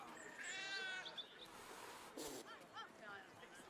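A cat in Baldur's Gate 3 gives a few short meows in a busy game scene, with a steady background bed and voices.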